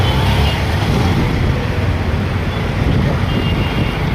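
Jammed traffic idles and creeps on Kalamukku bridge after an accident, a dense low rumble of car and bus engines mixed with wind noise, steady and fairly loud throughout.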